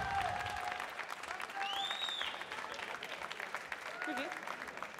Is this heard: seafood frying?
no